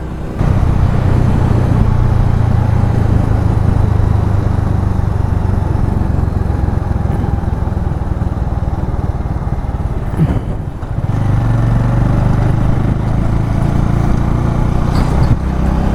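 A Bajaj Avenger Cruise 220 motorcycle on the road out of Gurgaon, its steady low engine drone and wind rush continuous and close throughout, with a brief dip near the middle.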